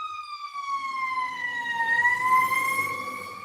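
Fire truck sirens wailing as the trucks pass, a clear rising and falling electronic tone with a steady engine rumble underneath, growing slightly louder and swooping in pitch midway.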